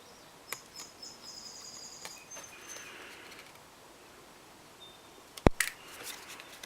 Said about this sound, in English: we're just going to snip those off